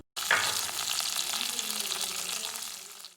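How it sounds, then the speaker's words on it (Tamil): Two large chopped onions sizzling in a pan with salt for Chettinad pepper chicken, a loud continuous frying hiss close to the microphone with no talk. "உப்பு தேவையான அளவு சேர்த்துட்டு வெங்காயத்தை வதக்க ஸ்டார்ட் பண்ணுங்கள்."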